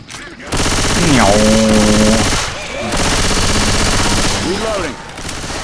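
Rapid automatic gunfire in Left 4 Dead 2, loud and nearly continuous, with dense rattling bursts separated by short lulls, while game voices and effects sound underneath.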